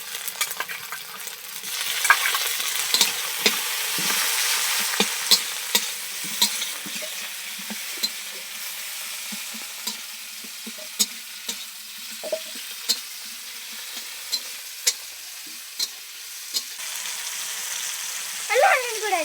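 Onions browned in a pan with ginger paste and chopped tomato, in a village kitchen, sizzling and stirring steadily with the scrape of a spatula for the whole stretch, close and continuous, with a few faint voices.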